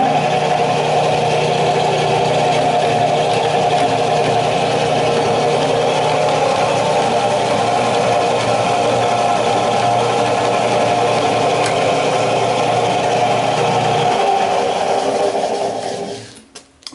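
A Moody Terrebonne power hacksaw runs in a workshop with a loud, steady mechanical drone and hum that holds for about fourteen seconds, then winds down and stops.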